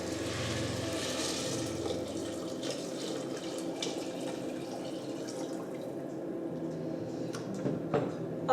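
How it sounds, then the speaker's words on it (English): Water pouring steadily into a cooking pot on the stove for a lentil and rice kitcheri, a continuous close splashing fill that thins toward the end with a few drips. "I'm going to add about 6 to 8 cups of water."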